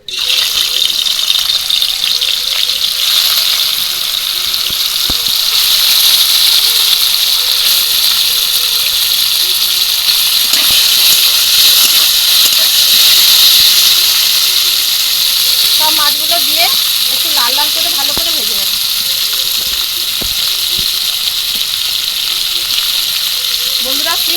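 Snakehead fish frying in hot oil in a wok, a loud steady hiss and sizzle that fills the whole clip, with a few faint thin sounds near the end and no talk.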